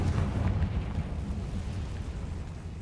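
A Confringo spell blast erupts in Hogwarts Legacy as a loud, deep, rumbling explosion that starts strong and slowly fades into a low roaring tail, with no talking over it.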